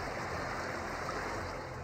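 Floodwater from the swollen Malir River rushing over Korangi Causeway, a dense continuous roar of flowing water, steady and close throughout.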